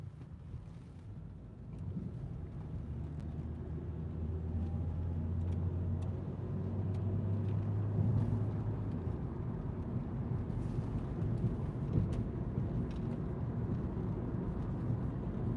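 A car interior on the road carries a low, steady rumble of tires and engine, with wind buffeting and faint rattles, continuous throughout at moderate loudness with no voices.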